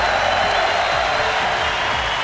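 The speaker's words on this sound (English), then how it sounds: "And getting the applause he deserves." Crowd applause at a League of Legends world championship finals between KOO and SKT, a steady broadband wash of clapping and cheering filling the short moment without a break.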